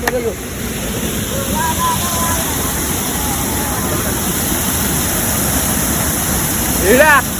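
Rushing water at Bhivpuri waterfall pours in a constant loud roar throughout, with people talking nearby over the steady wash of the falls.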